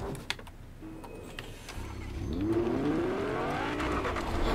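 A drivable taxi car in Fortnite, its engine tone rising and sweeping upward as it accelerates, beginning quietly after a few faint clicks and growing into a steady drone.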